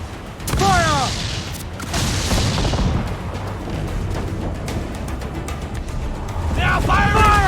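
Ship cannons boom repeatedly during a naval battle in Assassin's Creed IV Black Flag, loud volleys and rumbling impacts under shouted voices, with a fresh burst of fire near the end.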